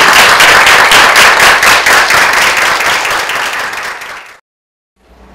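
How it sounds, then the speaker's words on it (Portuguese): Audience applause for a woman at a women's event fills the room loudly and steadily with dense clapping for about four seconds, then cuts off abruptly into near silence. "vamos aplaudir de novo essa mulher"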